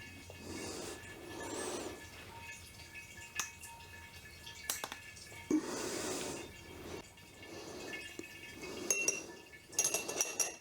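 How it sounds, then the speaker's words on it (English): Campden tablets crushed between two teaspoons while making blackberry port, giving faint metallic clinks and scraping presses that come in a few separate bursts and end in a brighter cluster of clinks. "To crush them, I put them between 2 teaspoons and press"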